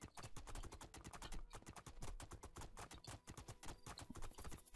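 Horse hooves clip-clop in quick, sharp, regular beats while riding in the video game Two Worlds 2, loud and close with short pauses in the rhythm and no talk.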